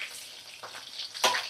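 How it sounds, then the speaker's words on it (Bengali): Cut brinjal slices fry in a pan with a faint, soft sizzle and a brief clatter near the end. "তো ভাজা হচ্ছে বেগুন"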